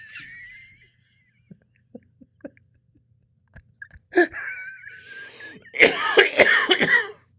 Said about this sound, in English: If you get me coughing, you got me.